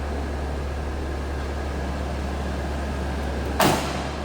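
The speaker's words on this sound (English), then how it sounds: "Door closes nicely." Door of a 1986 Chevrolet C10 short-box pickup shutting once with a single solid thud near the end, over a steady low hum.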